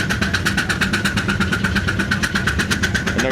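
A diesel tractor engine revving hard and rolling coal at a vintage tractor show, a loud close chugging roar with a fast, even pulsing beat that holds steady throughout, no talk.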